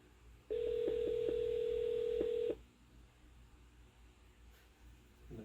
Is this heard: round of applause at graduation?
no